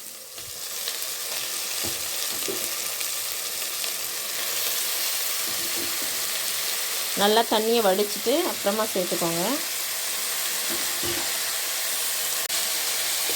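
Mutton for a wedding-style gravy sizzles steadily in a hot pan while being stirred, a continuous close frying hiss, with a person speaking briefly over it partway through.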